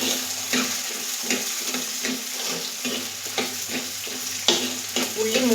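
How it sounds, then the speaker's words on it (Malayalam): Finely chopped shallots fry in a pan for a chilli-tamarind dish, sizzling steadily at close range while a spoon stirs them in regular scraping strokes. "ചെറുതായി കട്ട് ചെയ്ത് വെച്ചിരിക്കുന്ന ചുവന്നുള്ളി കൂടി ഇതിലേക്ക് ചേർത്ത് കൊടുക്കാം. എന്നിട്ട് നന്നായിട്ട് തന്നെ ഒന്ന് ഇളക്കി യോജിപ്പിക്കാം."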